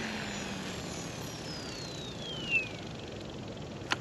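An XL Power Nimbus 550 RC helicopter at rotor idle, a faint steady whir with a slowly falling whine and a couple of brief clicks, heard outdoors.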